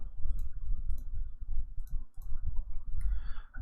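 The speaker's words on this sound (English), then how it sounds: "Can you hear all the clicking?" Light, fairly regular mouse clicks, about half a dozen, sound during map-making in Dwarf Fortress over a steady low background rumble, with a brief brighter rustle near the end.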